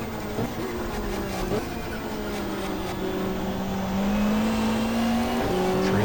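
Touring cars race at the Gold Coast Indy circuit in the 1995 Australian Super Touring Championship, a BMW New Zealand entry among them, engines droning and shifting pitch close by as the cars chase each other.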